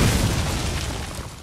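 A thrown bomb detonates in Hearthstone with a single heavy boom that hits at once and then rumbles and fades over about a second.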